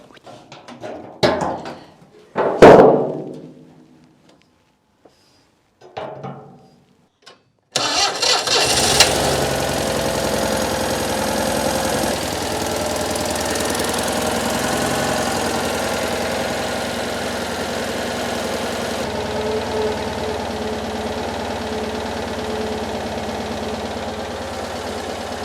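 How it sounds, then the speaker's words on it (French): A Citroën 2CV engine cranks on a 6-volt system after a few keys and handling clatters, then catches and settles into a steady, even idle that runs on loudly and close, with no talk over it. "je vais trouver mes clés et je démarre une dernière fois le moteur"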